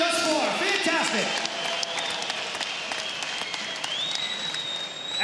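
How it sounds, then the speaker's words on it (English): Crowd at a professional lightweight boxing event applauds the two fighters after the bout, a steady wash of clapping with scattered shouts and whistles throughout, heard from a distance in an arena. "Ladies and gentlemen, can we please have a round of applause for these two fighters?"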